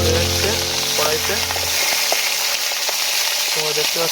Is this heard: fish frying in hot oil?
yes